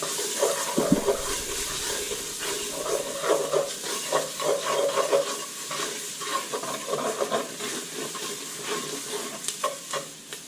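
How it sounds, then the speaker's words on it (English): Potato stew being stirred in a pot, with a continuous soft bubbling and scraping texture and irregular spoon strokes throughout, fairly quiet and with no voices. "Give it a good stir."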